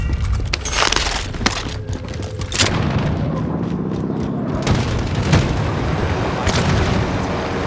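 An Owen gun SMG loaded with 7.62 rounds fires in a video game, with sharp bursts of shots over a heavy booming battle rumble, loud and close throughout.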